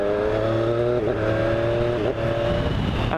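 Triumph Street Triple 765 RS motorcycle engine held at steady revs, then blipping through two quick-shifter gear changes with brief dips and recoveries in pitch, loud and close throughout.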